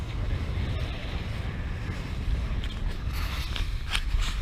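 Strong wind at sea buffets a racing sailboat on the North Sea crossing from Norway to Shetland, a steady roar and rumble with wave wash and a few brief higher rattles.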